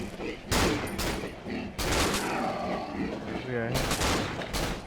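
Pistol gunfire in a video game: several loud, sharp shots in bursts, one near the start, another before two seconds and more near the end, under excited talk from a player.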